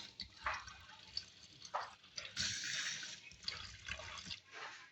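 Water splashing and trickling into a sink in short, uneven bursts, fairly close and quiet, with no one speaking.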